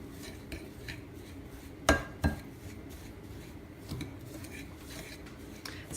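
A utensil scrapes and knocks against a bowl while a lavender bath bomb powder mixture is stirred, with two sharp clanks and duller scraping under a low steady background.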